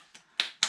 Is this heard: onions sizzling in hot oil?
no